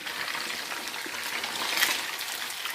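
Chopped mutton mixture with turmeric sizzles steadily after going into a hot handi, a continuous bright frying hiss with a brief louder surge near the end, no talk over it.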